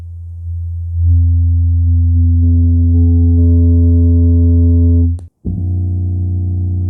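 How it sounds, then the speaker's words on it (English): A steady low test tone at 85 hertz played loudly through KEF LSX speakers, sustained for several seconds with harmonic overtones, then cut by a brief click and dropout before a lower tone starts. "So we have 85 hertz,"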